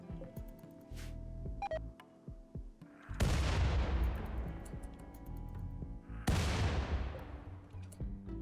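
Heavy artillery fire from a hellcannon in the RimWorld video game: two loud booming blasts, each with a long rumbling decay, preceded by quieter ticking and clicking game sounds.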